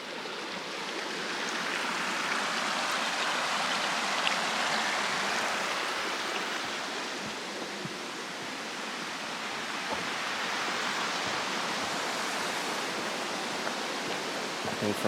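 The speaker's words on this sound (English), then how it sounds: "Here's Killen Creek." Killen Creek on the north side of Mount Adams rushes in a steady, broadband flow of water, close and continuous, with a slight swell in the middle and no voices.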